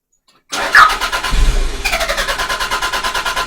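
A Toyota MR2 engine cranks at close range and then catches. It runs with a steady, pulsing idle for a few seconds, and no voices are heard.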